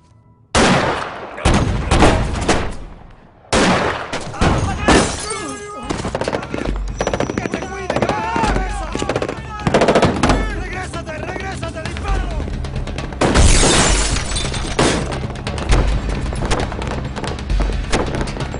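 A movie shootout with machine guns, loud and close: a sudden burst, then sustained rapid automatic fire mixed with single shots, thuds and booms, under shouting voices.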